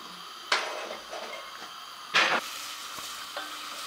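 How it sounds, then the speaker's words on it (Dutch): Onions go into a pan of hot garlic olive oil, giving two sharp bursts of sizzling as they hit the oil and are stirred, then a quieter continuous frying hiss with faint clinks. "als het een beetje warm wordt, ga ik de uien toevoegen"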